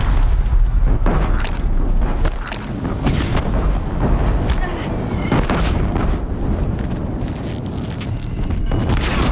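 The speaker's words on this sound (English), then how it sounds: "Deathbringers keep firing" Repeated heavy booming explosions from Deathbringer machines firing in Horizon Zero Dawn, loud and close, strike in irregular succession over rumbling battle noise, with voices talking between the blasts.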